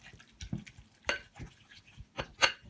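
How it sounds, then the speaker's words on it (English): Tuna and mayonnaise being stirred together in a bowl, a utensil making a few short, soft scraping and clinking strokes at an irregular pace, close by and fairly quiet with no talking. "Let's mix the tuna and mayonnaise together."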